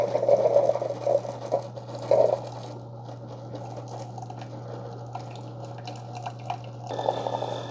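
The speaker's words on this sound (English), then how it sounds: "That's going to start running the vinegar and water through the machine." A Keurig K-Cafe Essentials coffee maker runs a vinegar-and-water descaling cycle, with a steady low pump hum under trickling, dripping liquid and small clicks throughout. The tone shifts slightly near the end.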